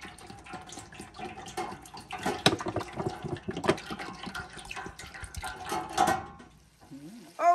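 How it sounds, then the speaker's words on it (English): Cooking oil poured into the container of a Presto dual-basket ProFry deep fryer, a gurgling, splashing liquid stream that swells and fades with irregular glugs, fairly close, followed by brief clunks at the end. "we are pouring the oil into the container."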